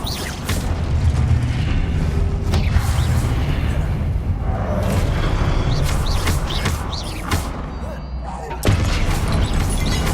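A Confringo blast spell explodes in Hogwarts Legacy during Charles Rookwood's trial on PS5, a dense booming burst within loud, continuous game combat noise, with a sharper surge near the end.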